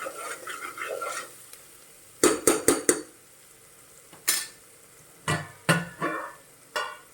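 Masala roasts in a pan and is stirred for a mutton curry, with a soft sizzle early on, then sharp scraping and clinking strokes of a spoon against the pan in irregular bursts, close and clear.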